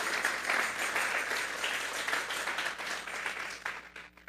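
A church congregation claps together in sustained, dense applause that carries on evenly before thinning out at the end.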